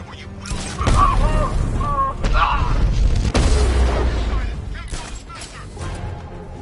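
Detonation in a PS4 video game: loud booming blasts and crashing rumbles layered with mechanical noise and a few sharp impacts, while voices talk over the chaos close by.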